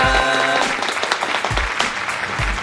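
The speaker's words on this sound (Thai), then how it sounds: "ขอเสียงปรบมือด้วยครับ" Audience applause at an LG Electronics Thailand press launch for an app on LG Smart TV, steady clapping that follows a brief tonal music sting at the start and continues throughout.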